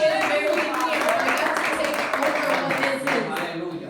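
A church congregation applauding during a pastor's sermon, a dense, continuous wash of clapping with a voice carrying over it.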